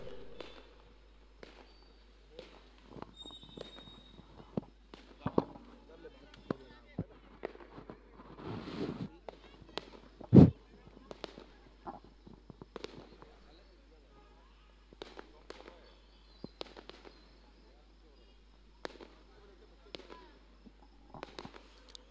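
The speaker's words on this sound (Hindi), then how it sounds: "स्टेडियम पर जिस तरह से आतिशबाजी हो रही है" Fireworks burst over a cricket stadium during an eliminator match, with scattered sharp bangs and crackles throughout and one loud blast near the middle, heard under ongoing commentary.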